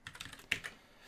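Quick, light keystrokes type code on a computer keyboard: a short burst of soft clicks that fades out near the end, alone and fairly quiet.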